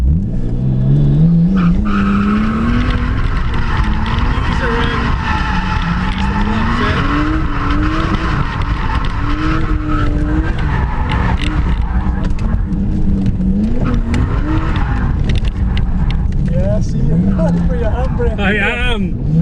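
A Nissan R32 Skyline drift car with a turbocharged RB20 engine driven with clutch kicks, its engine revving and wailing up and down continuously under loud tyre squeal, with people talking over the roar throughout.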